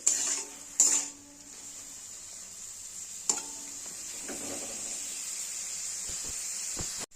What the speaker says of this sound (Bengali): চিংড়ি মাছটাকে ভেজে নিচ্ছি